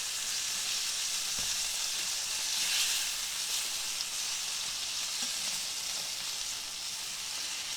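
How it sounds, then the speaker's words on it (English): Steady, close sizzling of fish frying in hot oil, a continuous bright hiss with faint pops and no talking. "the hard part's over in frying fish"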